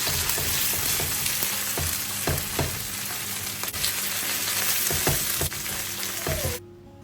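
Mashed beans for a traditional meatless bean dish are stirred with onion in a hot pan, giving a steady close sizzle and frying crackle with repeated scraping stir strokes throughout. The sound cuts off abruptly near the end.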